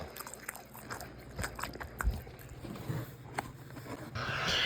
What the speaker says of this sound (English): The tenders are tender like the tenderism. The crunch is very crunchy.